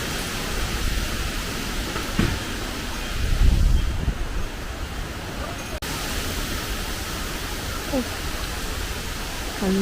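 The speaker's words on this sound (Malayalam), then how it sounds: "നല്ല കാറ്റ് കേട്ടോ." Strong stormy wind roars at night, a loud, continuous rushing gust that swells midway while a person talks over it.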